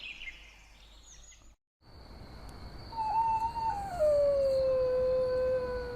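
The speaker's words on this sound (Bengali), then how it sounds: "হঠাৎ কুকুরের ডাকে ঘুম ভেঙে গেল।" Street dogs howling at night, staged as an audio drama effect: after a low rumble and a brief silence, one long, loud howl rises and slowly falls, sustained over several seconds with no talking.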